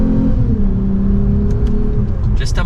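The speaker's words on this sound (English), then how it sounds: "Now, as far as the exhaust note goes from this V6," A 2023 Lexus RC350 F Sport's V6 exhaust holds a steady, loud drone close by, then briefly climbs in pitch near the end, with speech mixed over it.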